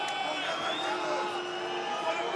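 A mixed-martial-arts arena crowd at an OKTAGON event sends up a steady roar of disapproving noise, with whistles and shouts rising within it, under a commentator's voice as one fighter dominates another on the ground.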